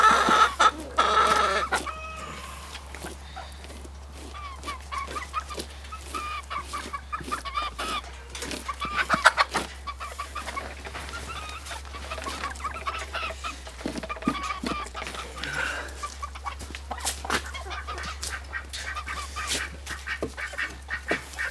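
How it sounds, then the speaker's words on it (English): A flock of chickens clucks and squawks steadily close by, with ducks among them, over a constant low hum and scattered scraping and handling noises. "I got 2 ducks right there and a bunch of chickens sitting here begging to be eaten"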